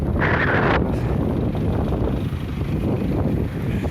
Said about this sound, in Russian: Пурга. Вот такое завихрение получается. И так, ветер сильный.